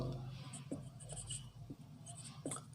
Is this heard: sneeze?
no